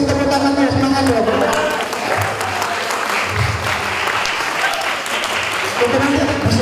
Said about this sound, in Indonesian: Boleh kasih tepuk tangannya, semangat dong.